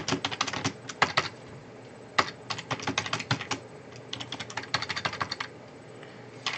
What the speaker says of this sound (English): let me get my typing caught up here